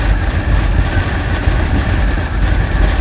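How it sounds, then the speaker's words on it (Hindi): A convoy of Royal Enfield 350 motorcycles riding together, a constant low engine rumble with wind noise, loud and continuous throughout with no talk. "Convoy of bikes."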